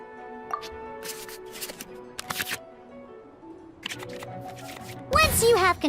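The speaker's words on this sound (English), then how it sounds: "we can select any number of cards in our hand to shuffle back into the draw pile, and then draw the same number of new cards" Game-style card shuffling sounds from the Genius Invokation card game in Genshin Impact, a few quick shuffling bursts and soft clicks, ending in a louder flurry of bright chimes over faint background music.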